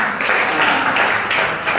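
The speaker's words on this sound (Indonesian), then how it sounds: "tepuk tangan dulu untuk bapaknya" Audience applause for a man at a seminar or business presentation, a steady dense patter of many hands clapping close by for a couple of seconds with no talk over it.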